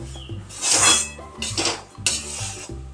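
Desiccated coconut is being stirred into a modak filling in a pan, giving close, loud metallic scraping and clanking of a spoon against the pan in a few uneven bursts, with no talking.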